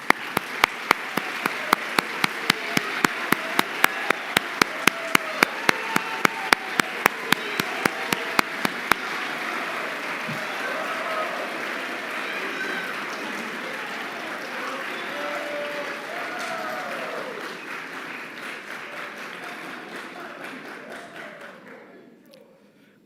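Applause from a chapel congregation honoring tenured college faculty, opening with sharp individual claps that merge into sustained, even clapping before fading out near the end.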